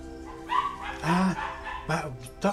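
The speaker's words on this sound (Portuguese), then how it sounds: "Os cachorros querem correr atrás do meu gato." Several dogs bark and yip in short, loud bursts, excited over a passing cat at a home at night, with a brief whimper between the barks.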